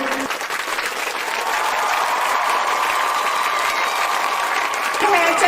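An audience at an RCM business event bursts into loud applause for a recognized member, a steady roar of clapping that swells and holds without words over it.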